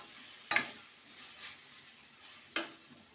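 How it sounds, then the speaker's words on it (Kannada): Drumstick pieces fry in oil with spices such as coriander powder, a faint low sizzle broken by two sharp stirring scrapes, close and quiet, with no voices. "ಇದೆಲ್ಲ ಹಾಕಿ ಚೆನ್ನಾಗಿ ಫ್ರೈ ಮಾಡಬೇಕು."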